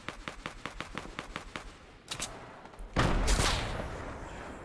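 Rapid gunfire in a video game battle rattles in a regular burst of about a dozen sharp shots, then a few scattered cracks and a louder blast of noise, with no talking.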